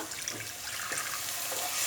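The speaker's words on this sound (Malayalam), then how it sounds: "ഇനി ഇതിലേക്ക് ഒരു കപ്പ് നല്ല തിളച്ച വെള്ളം ഒഴിച്ചു കൊടുക്കുക" A cup of boiling water is poured into dum aloo cooking in a pan, a soft, steady splashing pour that runs throughout and swells slightly at the end.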